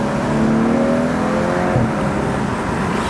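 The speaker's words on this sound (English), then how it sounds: "you can hear the engine." BMW 335i with an N55 petrol engine tuned and paired with a double-clutch gearbox, revving steadily and loud up close, with a rising engine tone across the whole stretch and no talking.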